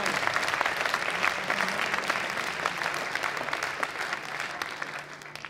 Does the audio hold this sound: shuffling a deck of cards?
no